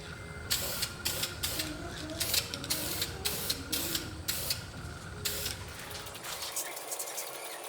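Spray gun laying a red base coat onto a car body, a steady hiss broken into repeated short passes with brief pauses, fairly close and moderately loud, trailing off at the end.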